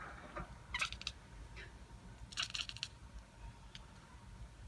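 A cat makes faint, unusual clicking noises in two short rapid bursts, quiet and close, against a low room hum.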